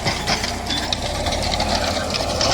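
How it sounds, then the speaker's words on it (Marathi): A tractor pulling a rotavator through a stony field drones loud and close with a steady, knocking engine rumble as it jolts over stones. "उसळत आहे ट्रॅक्टर."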